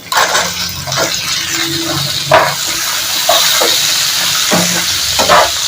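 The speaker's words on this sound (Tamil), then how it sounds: "இப்போ ஒரு பெரிய வெங்காயம் கட் பண்ணி வச்சிருக்கேன் அதையும் போட்டுக்கிறேன்" Chopped onion and dried red chilies sautéing in a pan, a loud close sizzle punctuated by several sharp scraping stirs of a spatula against the pan.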